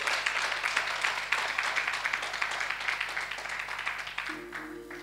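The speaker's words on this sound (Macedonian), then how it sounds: "И ја мислам дека треба еден силен аплауз за Гого." A church congregation breaks into steady applause for Gogo, a dense patter of many hands clapping at a moderate distance that slowly fades toward the end.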